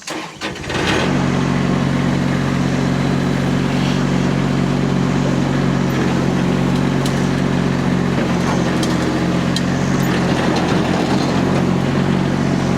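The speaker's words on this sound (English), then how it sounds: "I don't think I have a machine that won't bog when you push into a big old pile of gravel" Diesel mini skid steer running at low RPM while pushing into a big gravel pile, a loud, steady engine drone that sets in after a brief start and holds throughout.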